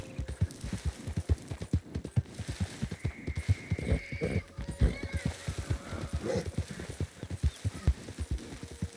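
A horse gallops in Red Dead Redemption 2, its hoofbeats a fast, steady, close clip-clop with a faint hum behind and no talk.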